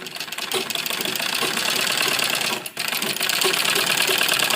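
A sewing machine stitches a seam on a kurti sleeve, a loud, close, steady rattling hum of rapid needle strokes that briefly drops out for an instant midway before continuing unbroken.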